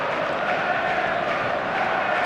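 Stadium crowd in the eFootball 27 PC football game, a steady, dense roar of many voices held at an even level throughout, with no distinct chants or individual shouts standing out.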